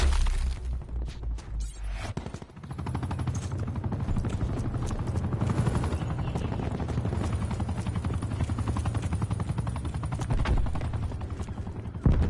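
Attack helicopter in Call of Duty Black Ops 4, a steady rotor thump overhead, close and loud, layered with machine-gun fire and scattered impacts through the whole stretch.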